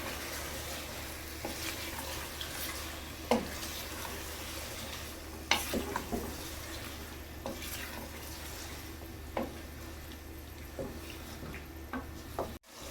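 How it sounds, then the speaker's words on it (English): Tomatoes stir-fried for biryani masala sizzle softly and steadily in the pan, broken by occasional scrapes and knocks of a spatula; fairly quiet, with no voices. "Stir fry for a few minutes after adding the tomatoes."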